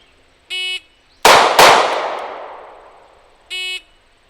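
Two handgun shots from a concealed-carry pistol fired from a low point-shooting position, sharp loud cracks close together with a long ringing decay, bracketed by two short electronic beeps of a shot timer.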